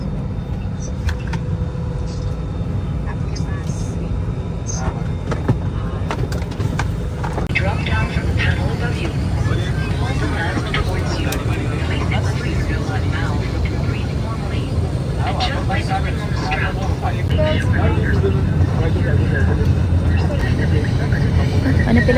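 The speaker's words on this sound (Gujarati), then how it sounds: "મારું પ્લેન ઉપડી રહ્યું છે મતલબ એની તૈયારી થઈ રહી છે" Cabin of a passenger airplane preparing for takeoff on an India to USA flight, with a steady engine hum and rumble throughout, clicks and rattles from inside the cabin, and people talking over it.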